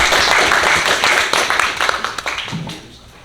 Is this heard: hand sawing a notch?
no